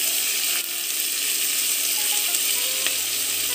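Onions soften and sizzle in a pan for a dhaba-style paneer makhani butter masala, a steady, loud broadband frying hiss that fills the whole stretch with no talk over it.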